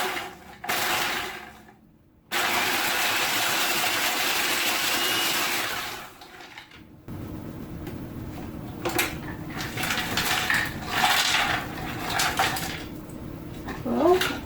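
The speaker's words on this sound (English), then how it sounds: "said don't overfill the chopper. So we're going to try this." An electric food chopper grinds crispy dried bread into fine breadcrumbs in loud whirring bursts that stop and restart, then gives way to a rougher, uneven rattling grind as the pieces break down.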